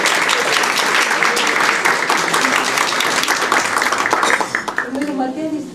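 A panel audience breaks into a steady burst of clapping that stays full and even before tapering off, with a voice coming in as it fades.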